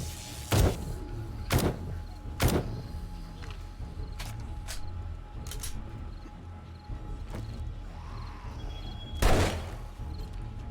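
An armor-piercing weapon fires at zombies in 7 Days to Die, a handful of sharp, separated single shots spread across the stretch, with a low ambient hum between them.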